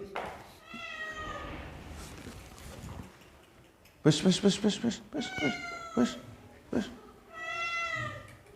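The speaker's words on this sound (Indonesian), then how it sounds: "Kucingnya siapa itu?" A cat meows several times during an evening Islamic study gathering at an orphanage: a drawn-out cry, then a cluster of sharp, loud meows and more plaintive calls, with people talking in between.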